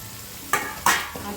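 Carrot and grated coconut hitting a hot pan for a quick Kannada-style rice dish, two sharp bursts of sizzling as they are tipped in, then a lower crackle continuing alone.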